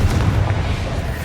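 A Confringo fire spell explodes in the video game Hogwarts Legacy, a loud, continuous, rumbling boom with dense low-end roar that sustains without a break.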